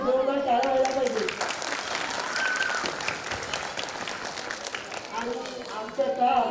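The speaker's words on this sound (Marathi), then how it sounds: "त्या सर्व नाशिकच्या कलाकारांसाठी जोरदार टाळ्या व्हायला पाहिजे" A live comedy audience claps loudly for performers from Nashik. The applause is a dense, steady wash that lasts the whole stretch, with cheers and a voice rising at the start and end.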